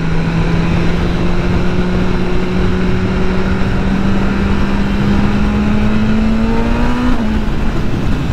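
A BMW S1000RR sport motorcycle ridden at Daytona Bike Week, its engine loud and close, pitch climbing steadily under acceleration and then stepping down sharply at a quick gear shift.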